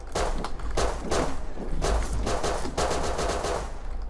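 Rapid bursts of automatic gunfire from the survival shooter Rust, several loud volleys of quick repeated shots with brief gaps between them, continuous over a constant low rumble.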